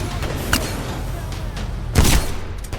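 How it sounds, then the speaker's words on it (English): A grenade detonates in the shooter game Titanfall 2 as a single loud, close boom that breaks through a steady background of gunfire, with a sharper crack a moment earlier. "Oh my god, that nade came back at me."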